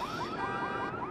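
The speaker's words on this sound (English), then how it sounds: "another car alarm" Car alarm going off in Watch Dogs, a steady electronic whooping tone with wavering pitch sweeps, sounding continuously and fairly loud throughout with no talk over it.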